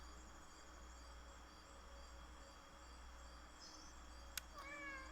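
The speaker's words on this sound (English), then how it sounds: "You just gonna keep meowing as I walk by you?" A cat in the video game Indigo Park meows faintly a couple of times near the end, over a quiet ambient hum with insect-like chirping.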